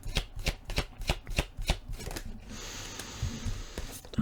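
Tarot cards are shuffled close up in a quick series of crisp riffling flutters, then a softer stretch of papery slides and taps, with no talking.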